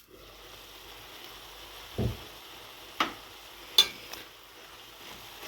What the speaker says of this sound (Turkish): Kıymalı harcımız da bir yandan kavruluyor.